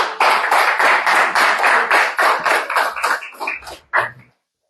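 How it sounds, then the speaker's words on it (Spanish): Church congregation applauding at a Spanish-language service, a dense burst of clapping that thins into scattered claps and ends with a final few hand claps. "Un aplauso al Señor."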